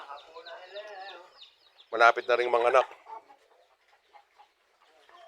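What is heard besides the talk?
old mother hen clucking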